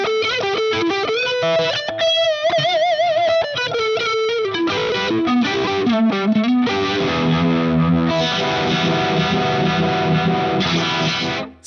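An electric guitar played through a Univibe-style vibe effect with a tape distortion block adding slight grit in front of it. The warbling, pulsing phrases are loud and continuous, shifting to a thicker, denser tone partway through.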